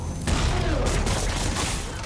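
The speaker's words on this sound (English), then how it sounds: "That's old school New York gunfire for ya" A burst of dense gunfire in the Marvel's Spider-Man video game sets in abruptly after a brief moment and continues as a loud, rumbling volley of overlapping shots without a clear pause.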